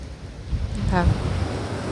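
Waves wash continuously onto a Mediterranean Sea shore, with wind rumbling across the microphone. A brief voice sounds in the middle.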